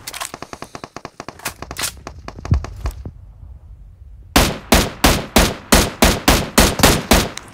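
Rapid bursts of gunfire in a first-person shooter match, a fast string of shots followed after a short lull by a slower run of loud, evenly spaced single shots.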